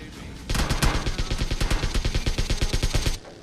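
Rapid automatic gunfire from PUBG Mobile Lite rattles in a loud, sustained burst of evenly spaced shots lasting about three seconds, with no talking.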